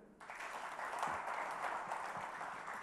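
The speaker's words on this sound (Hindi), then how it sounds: "तालियां तो हो जाए" A studio audience gives a brief round of applause during an interview with cricketer Mohammed Shami, the clapping quiet and distant but steady after a sudden start.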